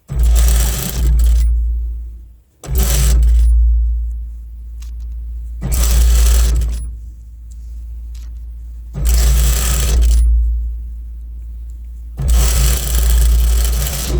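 Bursts of a sewing machine stitching a bra seam, five separate runs of fast motor whirring of a few seconds each, separated by near-silent pauses, close and loud.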